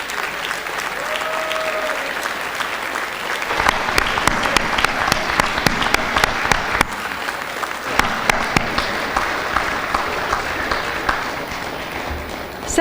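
An audience at a senior honors program ceremony gives parents a long, loud round of applause, steady, dense clapping that swells after a few seconds and carries on throughout with no voices over it.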